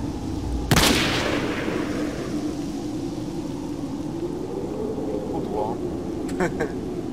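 Sniper rifle shot in the Stalker Lost Alpha video game: a single sharp, loud crack early on over steady ambient noise and a low droning hum, with a few faint clicks later.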